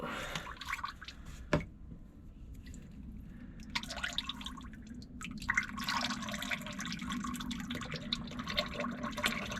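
Fluid drains from a loader into a container with a faint, steady trickle and splatter, marked by a few drips and clanks, quiet and close with no talk.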